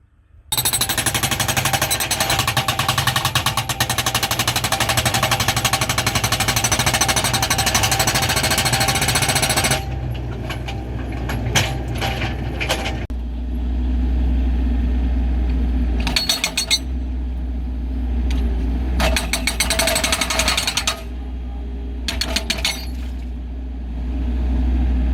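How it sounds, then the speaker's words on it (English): A jackhammer pounds rock in a well line trench, loud and continuous for about ten seconds, then returns in shorter rattling bursts over a low engine rumble. "had a guy out today hammer the rock"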